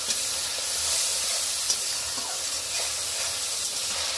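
Chili powder and cumin-coriander powder sizzle steadily in hot oil in a pan while being fried for a cauliflower and potato curry, a continuous close hissing with faint scraping stirs and no voices.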